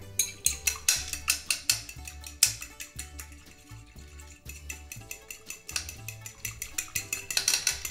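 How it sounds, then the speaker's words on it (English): A whisk beats a lemon and egg mixture in a bowl, a fast, steady run of bright metallic clicks and ringing taps in regular bursts, close and clear with no talking. "now we can whisk"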